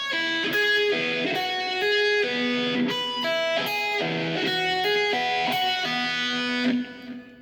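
A distorted electric guitar plays a slow riff of legato hammered and pulled notes, bright and sustained, with a clean repeating phrase.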